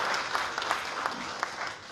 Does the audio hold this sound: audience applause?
yes